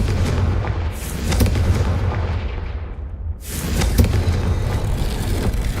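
A Confringo blasting spell bursting in Hogwarts Legacy, with heavy booming impacts and a rumbling roar that fills the clip loudly and continuously, punctuated by sharp cracks.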